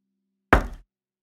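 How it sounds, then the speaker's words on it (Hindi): A single loud, close knock on a door in a retelling of Snow White, one sharp thud against otherwise complete silence. "कोई दरवाजा खटखटा रहा था।"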